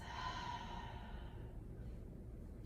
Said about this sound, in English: Long exhale out of the mouth.